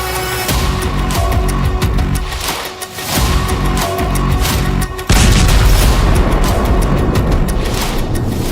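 A Khorramshahr-4 (Khaibar) ballistic missile launches with a deep roaring boom, heavy low rumble building in loud surges and jumping sharply louder midway, dense and close with no voices.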